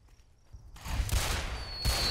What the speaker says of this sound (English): that was the firework cannon that people were talking about